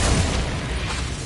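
A Confringo spell blast in Hogwarts Legacy, a loud, dense burst of booming, crackling energy that fills the whole moment without a break.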